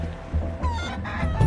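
Rooster at a cockfight in the video game Sleeping Dogs, clucking and crowing fowl sounds up close and fairly loud over a low background hum, brief and choppy with no speech.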